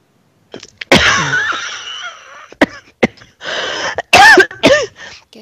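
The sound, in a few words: coughing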